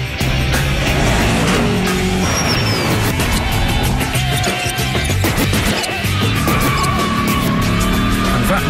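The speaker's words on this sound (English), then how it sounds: "It's the classic American V8 noise." Ford Mustang V8 engine with a loud, rumbling exhaust, revving and roaring close by in a continuous dense burble, with tire squeal and clattering workshop noise mixed in.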